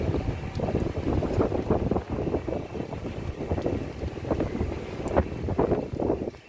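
Gusty wind blows steadily outdoors while rainwater pours and drips nearby onto plants, a dense, continuous wash of noise with scattered sharper splashes throughout.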